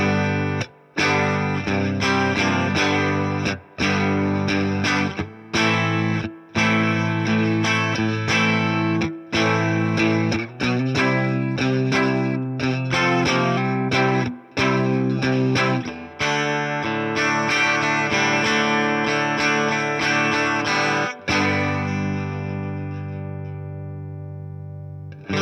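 A Fender '65 Twin Reverb amp model on a Fender Tone Master Pro modeler, played as a guitar through it with rhythmic strummed chords and brief stops, finishing on a long ringing chord that fades out with reverb.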